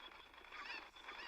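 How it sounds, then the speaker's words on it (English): An angry cucco chicken in The Legend of Zelda: Majora's Mask gives off a steady, harsh squawking cackle that lasts the whole short moment, loud and close. "the chicken will get angry and start calling in the cavalry of chickens."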